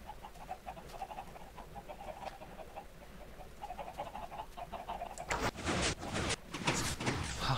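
Minecraft chickens cluck in short repeated bursts from a game farm, soft at first and then louder and busier near the end, with no talk.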